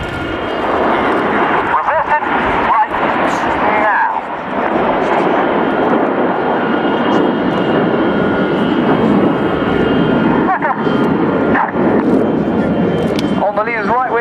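A formation flypast roars over the RIAT 2015 airshow, with the Red Arrows above a Vulcan bomber, loud sustained engine noise swelling and fading with a brief dip in the middle, while a commentator talks over it.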